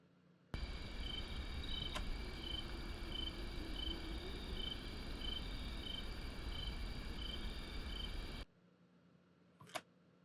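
Dense, steady insect chorus of crickets from an overnight outdoor recording, continuous high pulsing chirps over a low rumble of background noise, then cutting off abruptly near the end, followed by a brief faint click.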